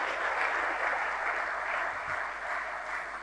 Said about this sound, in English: Please give it a round of applause